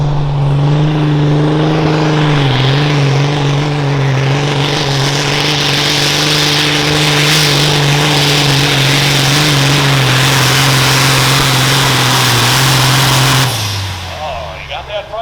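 A big-rig semi truck's engine roars loud and sustained at a truck pull competition in Shipshewana, Indiana, holding a strained drone for over thirteen seconds before winding down, with announcer talk over it.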